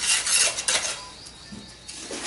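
Sand is shaken through a sieve while soil is prepared for repotting a bonsai lemon tree, a gritty, hissing rasp that is loudest at first and then fades to a quieter, scattered patter.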